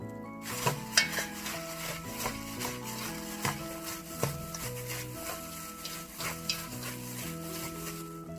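A seasoned cold bean sprout salad with sliced vegetables tossed in a bowl, heard as scattered soft scrapes and taps against the dish over steady background music.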